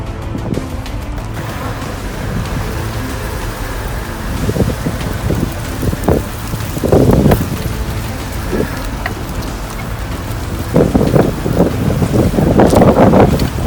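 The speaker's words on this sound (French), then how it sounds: "Le vent souffle de plus en plus fort" Strong gusty wind buffets the microphone during stormy, unstable weather outdoors, a steady roar rising into louder bursts toward the end, with no voices.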